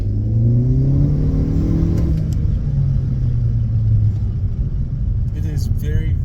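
Honda Civic FK7 turbo engine fitted with a Mishimoto cold air intake, idling with a low steady rumble and a slight rise in revs, loud and close, with brief faint clicks toward the end.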